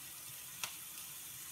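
Chopped onions fry in a pan with a faint, steady high sizzle, broken by one brief sharp pop midway, no one talking.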